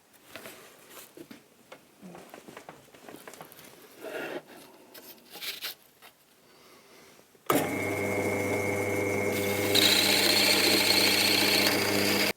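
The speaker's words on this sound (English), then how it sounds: "I've now fitted the plug cutting bit, and I'm going to cut a plug out of this light coloured wood here." A drill fitted with a plug cutting bit bores a plug out of light-coloured wood: quiet handling and tapping at first, then the motor kicks in loud and steady, whining evenly to the end.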